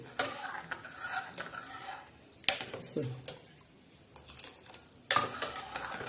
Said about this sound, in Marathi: असं छान असं हलवून घ्यायचं